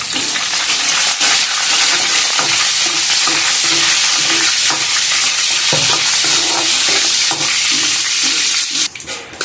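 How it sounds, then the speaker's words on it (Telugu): Loud, steady sizzling of ingredients frying in a pan with curry leaves, with scraping stirring sounds running throughout. "ఇదంతా బాగా ఫ్రై చూసుకోవాలి"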